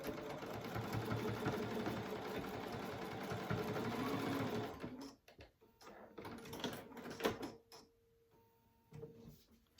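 A sewing machine stitches a strip for a crochet needle case, running in a continuous close whir for about five seconds, then stopping. A few scattered clicks and handling taps follow.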